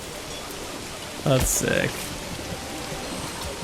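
Steady, even rain hiss in a medieval town-building game, Manor Lords. A short bit of speech briefly rises above the continuous rainfall.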